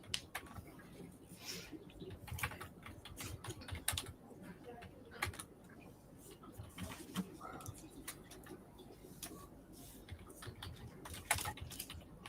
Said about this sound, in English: Somebody's violently typing.